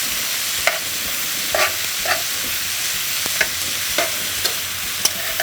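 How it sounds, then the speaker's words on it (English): Onions caramelizing in a frying pan give a continuous soft sizzle, broken by a few light clinks and scrapes of stirring at irregular intervals. "Want to get these onions caramelized a little bit,"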